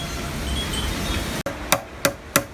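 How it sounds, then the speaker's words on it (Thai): A hammer drives three-inch nails to fix a plant to its support, three sharp, evenly spaced metallic strikes ringing out close after a stretch of dull rustling background. "ใช้ตะปูสามนิ้วเนาะต่อ อันนี้จะต่อยึดต้นด้านบน"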